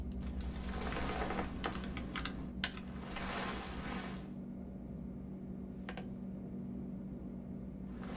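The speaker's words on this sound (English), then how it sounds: "Just keep typing." Rapid clicky keypresses patter on a code keypad in an action film, in bursts over a steady low hum, thinning out to a few isolated taps later on.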